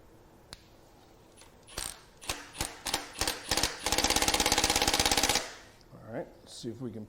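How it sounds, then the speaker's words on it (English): Power tool on an exhaust manifold bolt of a GM 3.6L Acadia/Traverse engine, a string of sharp rattling impact hits that merge into a rapid hammering burst of about a second and a half, moderately loud and close, with brief talking after. "we're going to hook a power tool onto this and pop that bolt right off"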